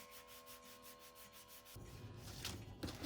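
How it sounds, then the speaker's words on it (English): Soft rhythmic rubbing of sandpaper on a wooden piece, steady back-and-forth strokes of light sanding, then a louder coarser scraping toward the end. "Just going to go ahead and do light sanding on this piece."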